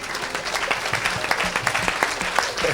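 Church congregation applauding during a service, a dense burst of clapping with some cheering voices mixed in, loud and close throughout.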